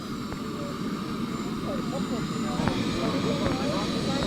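A radio control jet airplane engine runs at an outdoor fun fly, a continuous roaring whine with steady broadband rush, while people talk faintly in the background.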